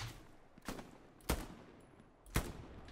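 Gunfire rings out in the World War II shooter Hell Let Loose: three sharp, separated shots cracking at irregular intervals, each a sudden loud report over quiet background, fairly close.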